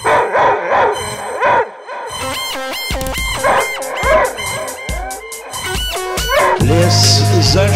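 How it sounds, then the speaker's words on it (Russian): A dog barks angrily at dusk near a forest clearing, with several sharp barks mixed under a narrating voice that keeps talking, followed by a low sustained rumble at the end. "собака зло залаяла"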